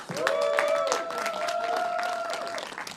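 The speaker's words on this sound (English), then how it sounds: "Can this side of the audience give this side a big round of applause?" A live Saturday-night show audience applauds on cue from one side of the room, steady clapping filling the space while a sustained, wavering cheer or whoop rises over it for most of the clip before fading.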